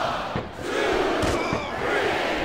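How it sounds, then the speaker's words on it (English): A large arena crowd in the video game WWE SmackDown vs. Raw 2007 roars and chants steadily during a battle royal, a dense wall of cheering voices with a few sharper shouts rising out of it. "It sounds like this capacity crowd has something on their minds, Taz."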